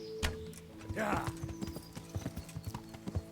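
Horse hooves clip-clop steadily in the video game Kingdom Come: Deliverance while a horse is ridden. A brief whinny-like sound comes early, and a voice talks over the steady footfalls.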